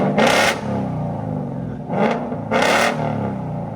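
A Ford Mustang GT with a Double Helix exhaust, heard from inside the car, revs in three sharp bursts over a constant loud idle rumble, each rev rising quickly and falling back.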